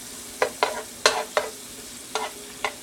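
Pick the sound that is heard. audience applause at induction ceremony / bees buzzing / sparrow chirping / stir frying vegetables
stir frying vegetables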